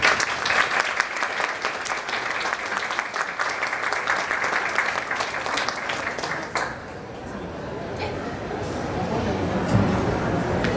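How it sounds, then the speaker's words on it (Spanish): Audience applause welcoming the moderators at a panel event, a dense steady wash of many hands clapping for several seconds before fading into quieter room noise and murmur. "Recibimos con un fuerte aplauso."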